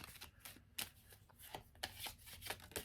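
A deck of petit Lenormand cards is shuffled up close, quick riffling slaps and flicks in an uneven rhythm, fairly faint with no talk.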